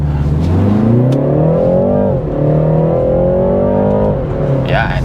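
BMW 330i with ZF automatic launching hard in sport mode, the engine revving up through rising pitch, dipping at a quick upshift and climbing again, loud and close inside the cabin, with someone speaking briefly over it.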